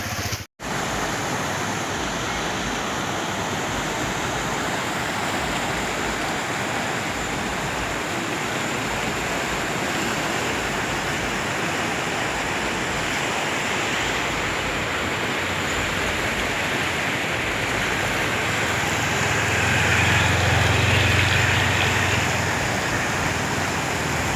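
Floodwater rushing under the Deulghata bridge during the 2025 flood, a loud, unbroken roar of torrential water with a slight swell in low rumble toward the end and no voices.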